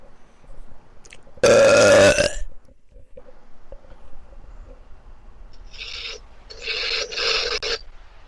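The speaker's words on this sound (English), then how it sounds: "Now that's a belch." A single loud, close belch lasting about a second, with a deep croaking tone, set on a beach; a few seconds later come two raspy scraping or rubbing bursts.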